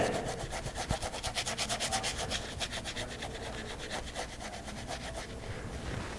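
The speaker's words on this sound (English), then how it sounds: "Take the big brush, take a clean towel, see if I can scrub some of that out." A large brush scrubs quickly back and forth over wet watercolor paper, a steady, fast rhythmic rubbing that is close and fairly soft, with no talk.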